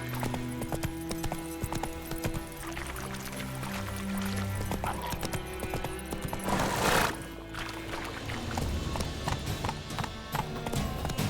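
Horse hooves clip-clop steadily at a galloping pace in The Witcher 3, with game music and ambience running underneath throughout.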